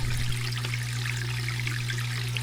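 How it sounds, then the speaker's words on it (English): Water overflowing full basement sump pits and trickling through a notch, a steady close splashing and dribbling over a constant low hum, with no talk. "I was concerned about water level, but I mean, they're overflowing now,"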